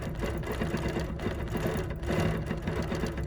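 A Bernina sewing machine runs steadily throughout, its needle stitching in a fast, even mechanical rhythm with a constant motor hum, close and loud with no talking.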